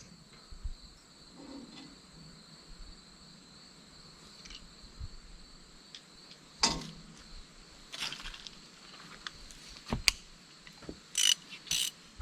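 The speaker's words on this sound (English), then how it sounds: "Craftsman came up with that speed wrench thing, the little button you push here" A Craftsman speed wrench ratchets in short bursts of sharp clicking on skidder repairs, with irregular pauses between pulls, close and fairly quiet over a faint steady whine.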